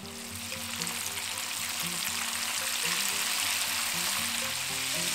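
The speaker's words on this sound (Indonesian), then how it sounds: "Kita goreng udangnya sebentar aja ya." Shrimp fry in pre-heated oil in a pan, giving a dense, steady sizzle that builds slightly and holds throughout, with a low hum from the stove beneath and no talking.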